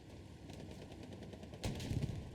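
A tank's main gun fires in Hell Let Loose, a single loud boom near the end that knocks out a Panzer IV with one hit to the hull, over a steady rumble of distant battlefield gunfire.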